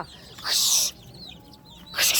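Bantam chickens cluck and squawk nearby in short bursts, one loud outburst early and another starting near the end, with quieter peeps between.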